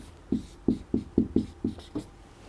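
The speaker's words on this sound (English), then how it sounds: "when you rub your middle finger to your thumb, okay, or against your thumb, that's snapping" Seven sharp finger snaps in an uneven rhythm, crisp and close, with quiet room tone between them and no talking.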